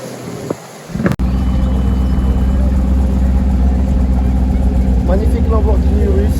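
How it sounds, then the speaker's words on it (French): A yellow Lamborghini Urus idles on a Paris street, a steady, loud low engine drone that follows a sharp knock, with faint voices over it near the end. "Magnifique Lamborghini Urus. Jaune."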